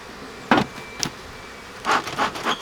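An opened hive of a strong honeybee colony that wintered on ten frames. A faint, thin buzz drifts under a few short knocks and scrapes of frames, and nobody talks.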